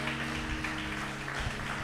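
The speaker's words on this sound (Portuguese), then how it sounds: "Quem pode aplaudir ao Senhor?" A church congregation applauds in praise, a steady, dense wash of clapping heard somewhat distantly over a faint electrical hum.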